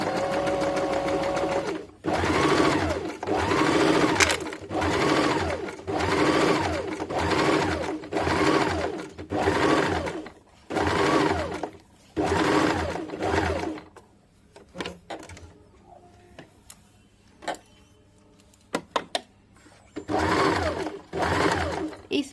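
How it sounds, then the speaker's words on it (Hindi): Sewing machine stitching seams on a boat-neck princess-cut blouse, running in steady loud bursts with brief pauses, then a quieter stretch of faint handling before it whirs again near the end. "अब मैं इसका सिलाई करके आप लोग को बताऊंगी"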